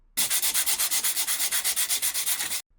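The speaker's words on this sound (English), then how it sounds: "We sand the surface using sandpaper" Rapid, rhythmic strokes of sandpaper rasp back and forth across a hard metal surface of a Cryptotag Zeus crypto backup plate, about eight per second, close and steady, then stop abruptly.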